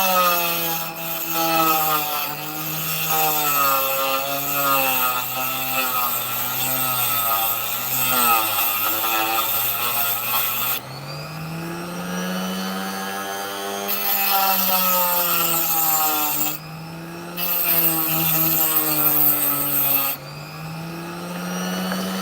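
A small power tool grinds steadily into an opal offcut, a continuous high whine that wavers in pitch as it bites, with a few brief drops where the cutting pauses before resuming.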